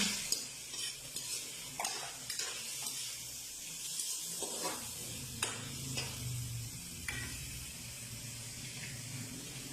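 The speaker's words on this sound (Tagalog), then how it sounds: "Nagluto siya chicken." Chicken cooks in a pan with a steady sizzle and frying hiss, broken by repeated scraping and clattering stirring strokes from a utensil, all close and continuous.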